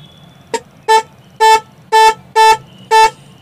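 A car horn, removed and wired directly for testing, honks in short bursts: one quick tap, then five steady blasts at an even rhythm, loud and close.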